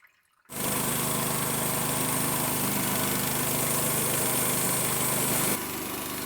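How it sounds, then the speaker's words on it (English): A sawmill on an off-grid Alaska homestead cuts lumber for outhouse trim, starting after a brief silence into a steady, loud engine drone with a whining saw that holds unbroken, then drops slightly in pitch near the end. "We put it to work right away, milling some of our own lumber to finish up the trim on the outhouse."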